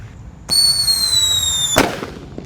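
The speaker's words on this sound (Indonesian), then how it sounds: "Lanjut di sini ada mercon Black Buster. Kita lihat reaksinya. Sudah menyala, bosku." A Black Buster firecracker goes off beneath an overturned cooking pan: a sudden loud onset with a sustained bright whistle-like ring lasting over a second, then a sharp burst as it ends, fading into quieter noise, no talk.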